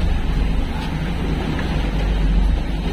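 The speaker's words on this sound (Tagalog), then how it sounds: "Grabe ka, lakas ang alon." Strong sea waves on the open ocean around a boat, a dense, continuous low roar of surf and water mixed with heavy wind rumble, steady and loud, with no voices.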